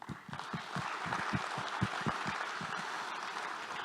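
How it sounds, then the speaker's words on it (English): Faint, distant applause at a lifetime achievement awards event, a scattered crowd clapping steadily for a few seconds. "So one more applause."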